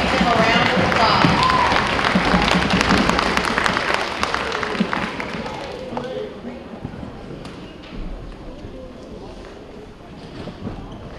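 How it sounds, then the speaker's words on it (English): An audience applauds at a school awards ceremony with a dense wash of clapping that is loudest at first and gradually thins and fades, with a voice speaking over it. "So give them a round of applause."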